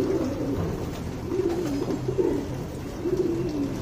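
Guldar pigeon hen cooing in repeated low, throaty phrases, each rolling coo rising and falling in steady succession, close and clear with no talk.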